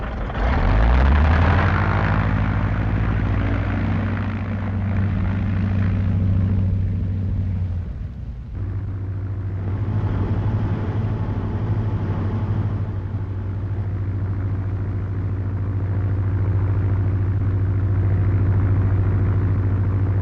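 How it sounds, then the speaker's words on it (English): A 1937 Lincoln Zephyr engine turns over and settles into a steady, loud rumbling idle, briefly dipping before running on evenly. "Well, Mike, turn her over"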